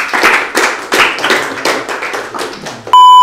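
A small group claps for a drum corps stickmaster and majorette performance, uneven bursts of hand claps that fade, ending in a sudden electronic tone.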